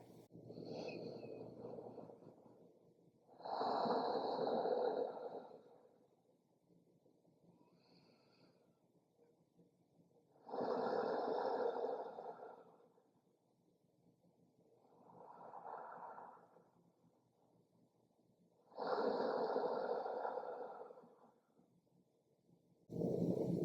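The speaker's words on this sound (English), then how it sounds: "3 deep breaths here." Slow, deep breathing in a yoga child's pose: three long, audible inhale-exhale cycles, close and soft, each breath a drawn-out airy rush separated by quiet pauses.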